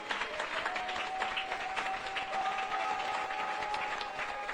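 A church congregation applauding for Jesus, a steady wash of clapping from a crowd, moderately loud and continuous with a faint sustained tone underneath.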